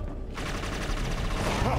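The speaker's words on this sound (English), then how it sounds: "Shoot him, Leo!" Rapid gunfire crackles as a dense, sustained burst during a cutscene in the shooter game Inversion, loud and continuous across the short stretch with no clear gaps between shots.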